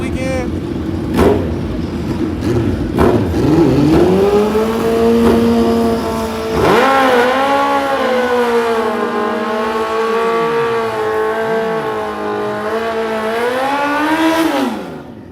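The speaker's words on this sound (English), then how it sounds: "Hayabusa Turbo on a Kawasaki ZX-14 in green on the tower side." A green Kawasaki ZX-14 drag motorcycle with a turbocharged Hayabusa engine at a heads-up drag race in Canada, revving loudly with a few sharp throttle blips, then a long high-pitched run that climbs and wavers before cutting off near the end.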